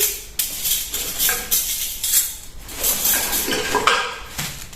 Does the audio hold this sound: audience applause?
no